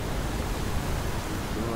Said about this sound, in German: Hier ist ein Wasserfall.